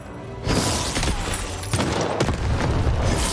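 Cannon firing in the video game Lost in Random, a sudden loud boom followed by dense, crackling blasts and rumbling impacts that continue to the end.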